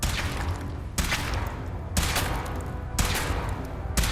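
Gunfire from a weapon tested in power armor in Fallout 4, sustained loud bursts of rapid shots that restart roughly every second in sharp, repeated volleys, with no talk over them.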